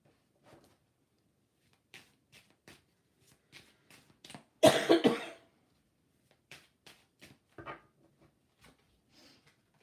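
One loud, close cough fit of a few seconds breaks up a quiet room, with soft clicks and faint stirring before and after it and nobody talking.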